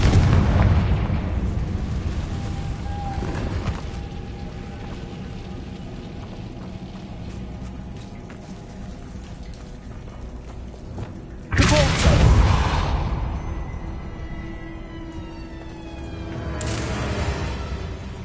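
A Confringo blasting spell explodes in Hogwarts Legacy: a loud, sudden boom bursts out midway over a low rumbling game ambience, then a softer swell of noise builds near the end.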